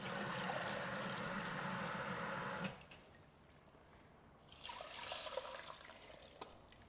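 Water pours steadily into a Thermomix in a loud continuous rush for nearly three seconds, then stops, followed by quieter splashing and trickling.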